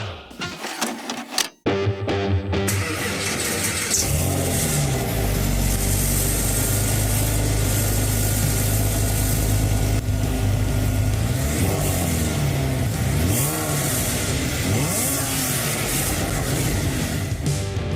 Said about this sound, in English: those startup exhaust sounds, the sounds that you